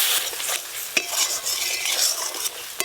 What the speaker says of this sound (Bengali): সব কিছু একসঙ্গে ভালো করে মিশিয়ে নেব।